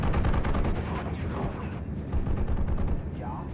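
A German Pak 38 50mm anti-tank gun fires in the WWII strategy game Steel Division: Normandy 44, with sharp, booming shots amid dense, continuous rumbling battle noise.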